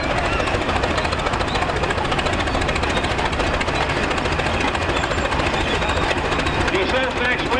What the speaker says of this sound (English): It's got live hydraulics and PTO pulling an Oliver 226 potato digger.